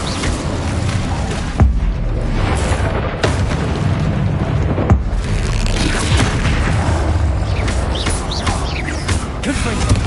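Incendio fire spells cast repeatedly in Hogwarts Legacy combat, loud booming bursts and sharp pops recurring every few seconds over a continuous roar of fiery, crackling battle noise.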